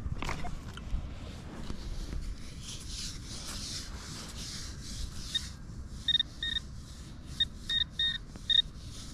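A metal detector sweeping a park lawn gives soft rubbing and scraping, then a run of short, clear electronic beeps in quick clusters over the last few seconds.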